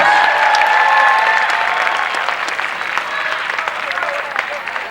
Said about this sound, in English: how about a nice round of applause for both fighters, please?